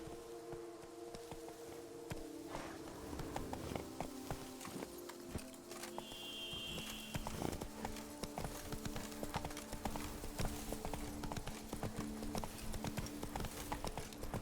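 Roach the horse's hooves clip-clop in a steady walking rhythm in The Witcher 3: Blood and Wine, close and clear over soft game ambience and music, with no talking.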